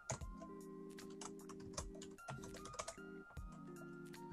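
Quiet, rapid keystrokes on a computer keyboard as a password is entered in a Linux terminal, a run of irregular clicks with short pauses between bursts, over a faint steady hum.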